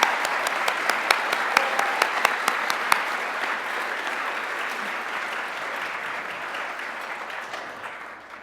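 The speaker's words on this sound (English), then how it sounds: "please join me in a round of applause for our tremendous HR Achievement Award" Applause for HR Achievement Award honorees at an awards event. Loud, sharp individual claps stand out over steady crowd clapping early on, then the applause settles into a dense, gradually fading patter.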